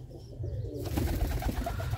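Pigeons in a loft coo softly over a steady low rumble, their throaty calls rising and continuing after a quieter opening moment, fairly close with no voices.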